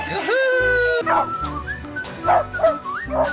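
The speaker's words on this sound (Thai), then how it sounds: "เจ้าสุนัข" Unboxed electronic toy dog plays a recorded bark: a quick run of high, close yips and short whimpering barks, loud and clear with no voices.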